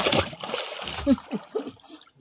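A needlefish splashes back into the sea, making brief watery splashes and sloshes close by while voices talk over them.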